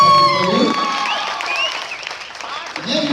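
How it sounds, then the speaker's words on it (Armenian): A party audience claps for a contest winner in a short, lively burst of applause. Voices and cheering rise over it throughout. "եկեք բարձր ծափարենք մեր երկու"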